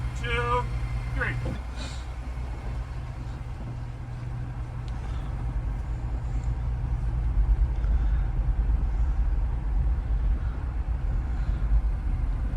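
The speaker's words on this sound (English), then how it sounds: "let our foot off the brake and see if either vehicle gets further in this unplowed snow" Two pickup trucks, one fitted with a Sasquatch package, crawl in 4-low through deep unplowed snow, giving a steady low engine rumble and crunching that swells slightly while people talk over it.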